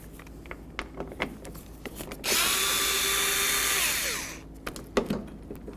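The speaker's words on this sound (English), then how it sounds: "we're going to loosen up these latch bolts here and remove them" A power drill runs steadily for about two seconds, loosening the T27 Torx latch bolts on the door of a 2008–2012 Jeep Liberty, with light clicks and handling noises before and after.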